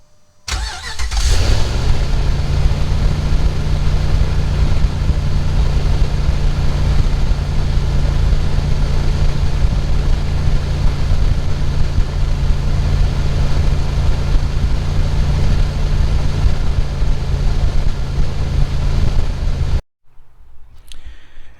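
Dodge Ram engine cranking and catching after a fan clutch replacement, then idling loud and steady with a low hum for nearly twenty seconds before cutting off.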